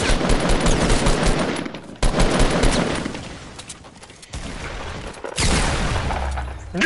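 Pump shotgun fire in the video game Fortnite, dense bursts of gunfire in several loud stretches separated by short gaps, with other weapon fire mixed in and no talk.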